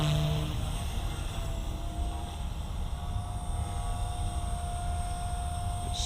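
Blade Fusion 180 RC helicopter in flight, a steady, close rotor and motor whine with a constant high tone that holds for the whole stretch.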